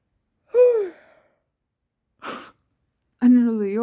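A person yawns with a long, drawn-out voiced groan near the microphone, then a short breathy exhale, and a second rising and falling yawn-like vocal sound.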